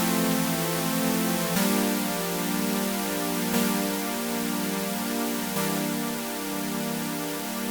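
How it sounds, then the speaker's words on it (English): A noisy, buzzy synth patch plays a repeating arpeggiated pattern with bright hiss across the whole range, steady and alone, with a faint pulse every two seconds. "I made just a little noisy synth patch that sounds like this."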